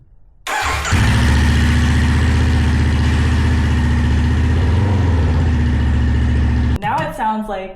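A Honda CB500F motorcycle engine fires up and runs loud and raw with the exhaust removed, a harsh steady roar up close, then cuts off as a voice speaks briefly.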